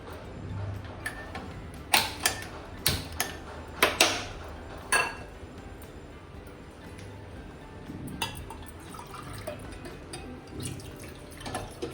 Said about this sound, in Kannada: ಎರಡು ಗ್ಲಾಸ್ ನೀರು ಹಾಕ್ತಾ ಇದ್ದೇನೆ.